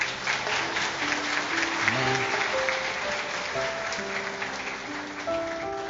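A church congregation applauds in a sustained, dense wash of clapping through a sermon, with organ or keyboard chords playing underneath and one voice speaking briefly.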